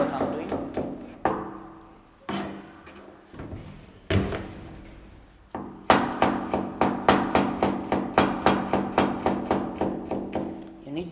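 Garlic being crushed on a board, sharp repeated knocks and thuds, scattered at first and then a fast regular run of strikes, close and fairly loud.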